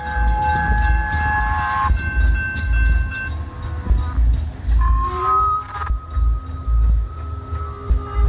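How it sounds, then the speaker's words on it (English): A train passes close by at night, a loud steady rumble and rail noise filling the whole stretch, with sustained horn-like tones early on that give way to shifting whistles and squeals near the end. "he was out alone recording a nearby train."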